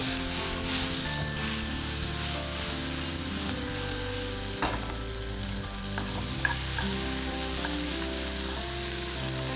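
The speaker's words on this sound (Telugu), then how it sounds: "స్టర్ ఫ్రై చేసుకోవాలి" Sweet corn stir-fried with vinegar and sauce in a pan, giving a loud, steady sizzle with scraping stirring strokes and a few knocks throughout.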